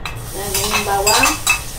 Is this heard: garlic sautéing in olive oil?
yes